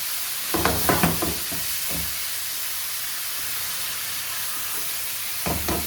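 Beef for shawarma fries on full flame with a steady bright sizzle and hiss, interrupted by a few close scraping stirs of the pan near the start and again at the end.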